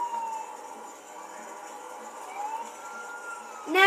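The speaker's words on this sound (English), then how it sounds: "if I turn my sirens on yeah, they just start coming" A police car siren in GTA IV wails steadily at moderate distance, its tone holding and wavering, before a louder rising burst cuts in at the very end.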